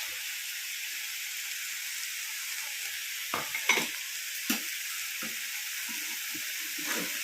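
Ground coconut goes into a pot of curry made with green gram and sambar spinach, where a steady loud sizzle hisses under a few scraping stirs of a spoon near the end.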